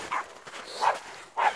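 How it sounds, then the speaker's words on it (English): A dog gives three short, separate barks spaced about half a second to a second apart, fairly close and moderately loud. "why are you barking?"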